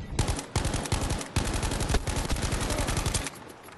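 Rapid automatic gunfire in the video game Battlefield 5, a dense, loud, continuous stream of shots with brief gaps, heard alone without talk.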